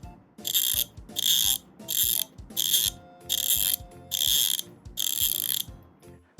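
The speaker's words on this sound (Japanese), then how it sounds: "これがね100ギアの音。" Snap-on 100-gear ratchet handle clicking, seven even bursts of fine, rapid high ratcheting as the handle swings back and forth, close and loud with no talking.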